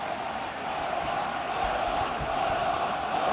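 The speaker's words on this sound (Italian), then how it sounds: "Applausi solo per lui oggi." Stadium crowd at a 1993 Serie B football match in Padova, a steady broad roar of applause and cheering for a player, continuous and fairly loud throughout without clear individual voices.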